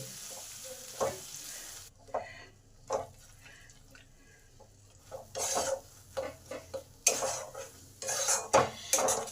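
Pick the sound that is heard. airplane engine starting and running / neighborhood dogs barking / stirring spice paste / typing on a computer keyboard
stirring spice paste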